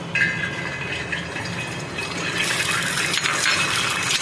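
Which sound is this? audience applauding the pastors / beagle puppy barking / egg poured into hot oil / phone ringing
egg poured into hot oil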